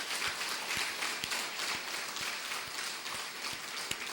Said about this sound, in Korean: 우리 다 같이 하나님께 영광의 박수로 찬양 올리겠습니다.